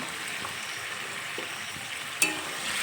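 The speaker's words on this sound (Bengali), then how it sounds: "গ্যাসের ফ্লেম বাড়িয়ে দিয়ে এবার ভেজে রাখা বেগুন অ্যাড করে দিলাম।" Fried eggplant goes into a simmering curry over a high flame, giving a soft, steady sizzle with a few faint stirs and one sharp clink near the end, close by and without speech.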